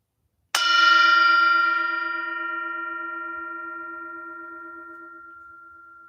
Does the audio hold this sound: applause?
no